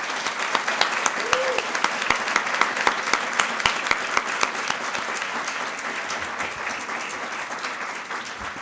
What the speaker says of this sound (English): Perhaps we could have one more round of applause for our inductees tonight.